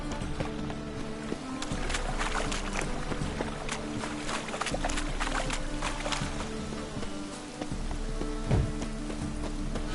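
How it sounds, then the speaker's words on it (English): Rain falls steadily in The Witcher 3, a dense, even patter with scattered crackling drops that holds throughout without any voices. "It's raining buckets."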